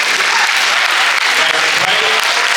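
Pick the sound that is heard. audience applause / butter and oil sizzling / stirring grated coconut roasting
audience applause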